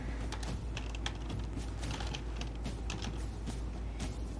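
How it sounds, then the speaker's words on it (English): Rapid, uneven clicking of keys on a computer keyboard, close and continuous, with quick bursts of keystrokes and no talking. "I can't see where I'm typing."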